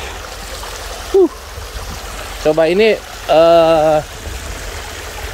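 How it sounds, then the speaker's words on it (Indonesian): Water from a spring stream babbles and trickles steadily throughout, with people talking over it. "Suara gemercik air ini bukan dari backsound ya, tapi dari benar-benar dari air mengalir ini."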